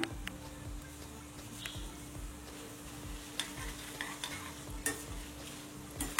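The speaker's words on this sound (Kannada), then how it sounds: "ನೋಡಿ ಕರಿಬೇವೆಲ್ಲ ಗರಿ ಗರಿ ಗರಿ ಆಗಿದಾವೆ, ಚೆನ್ನಾಗಿ ಫ್ರೈ ಇದೆ" Masala powder is stirred into crispy fried curry leaves in a pan over a low flame for avalakki chivda. A soft, steady sizzle runs under faint, irregular scraping stirs.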